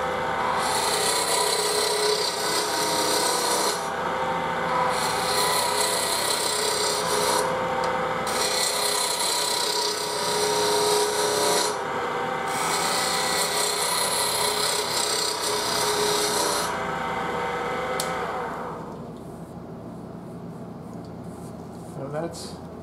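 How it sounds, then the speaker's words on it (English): Gouge cutting a spinning wood piece on a lathe, a loud continuous rasping shear broken by brief pauses, then fading to quieter scraping near the end. "Put the bevel on the wood, bring up the handle and pick up your cut."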